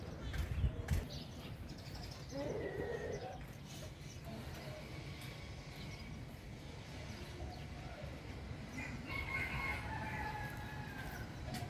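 Faint clucking and crowing of chickens and roosters in the distance in Phnom Penh, Cambodia, with murmuring voices mixed into the background.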